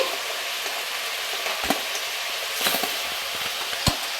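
Pieces of rohu fish sizzle steadily in hot oil, a continuous crackling fry with a few louder pops and the clink of a utensil turning them.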